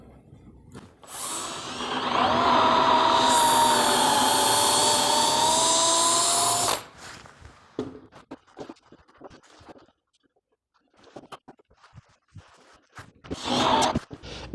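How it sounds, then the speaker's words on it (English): A power drill with a 1/2 inch bit bores through two 1x2 wooden boards, making a loud steady grinding whir for about five seconds. Scattered handling clicks and a brief second burst of drilling follow. "I'm going to use my 1/2 inch drill bit and drill all the way"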